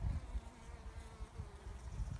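Bees buzzing around a swarm box holding a cast swarm on a farm, a continuous low drone of many insects wavering in loudness, close and without voices.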